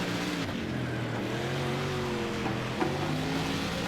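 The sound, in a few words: dirt race car driving on track in World of Outlaws video game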